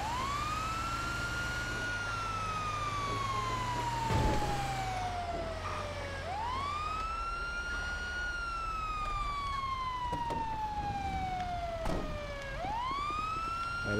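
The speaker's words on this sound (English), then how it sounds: "let me turn this siren off" A video game emergency vehicle siren in GTA 5 wails, sweeping up and slowly falling in long repeating cycles, loud and close, with a rumbling engine and occasional clanks underneath.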